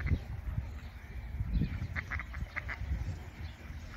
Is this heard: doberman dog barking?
no